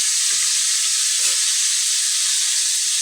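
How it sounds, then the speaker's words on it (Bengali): Green pea paste frying in a wok, heard as a steady, loud broadband sizzle with a soft stirring scrape or two, no voices. "দেখো আমি কড়াইশুঁটিটা এর মধ্যে দিয়ে দিলাম"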